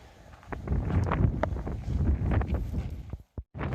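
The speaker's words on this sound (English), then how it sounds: "it's windy as hell" Strong wind on a mountain on the Pacific Crest Trail buffets the microphone in loud, continuous gusts, with a brief drop to near silence before the roar returns, in the dark.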